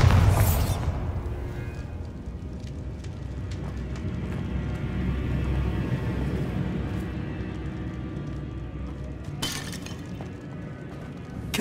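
A Bombarda spell explosion in the Hogwarts Legacy video game opens with a sharp shattering burst, followed by a low rumbling tail and debris clatter, then a second crack near the end.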